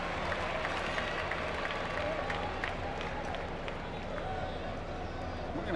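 Crowd murmur fills a baseball stadium during a Pirates vs Braves night game, a steady, broad wash of thousands of fans chattering with scattered claps, continuous and moderately loud throughout.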